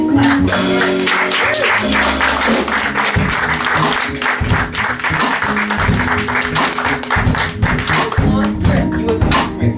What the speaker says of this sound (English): So can we give a nice hand clap for her?